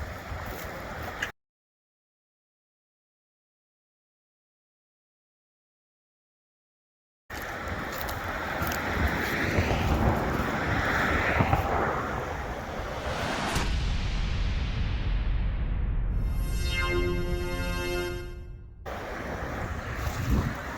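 High water gushes through an old Erie Canal waste weir in a steady, loud, close rushing roar, broken by a long silent gap early on, with wind buffeting the microphone and a brief mechanical tone near the end.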